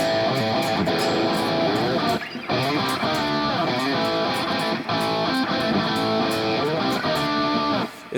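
A heavily distorted electric guitar plays a driving riff, loud and continuous, with a brief gap near the middle.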